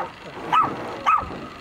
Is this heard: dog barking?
yes